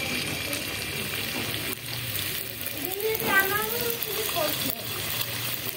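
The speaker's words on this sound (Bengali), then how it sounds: "বাকি আমি অরেঞ্জগুলো রেখেছিলাম সেগুলো এখন আস্তে আস্তে করে ভেজে নেব" Vegetables, the remaining orange pieces for a veg korola dish, fry slowly in hot oil with a soft, steady sizzle and occasional stirring, close by, and a voice speaks briefly over it.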